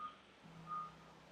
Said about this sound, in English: I don't know if you heard the truck beeping.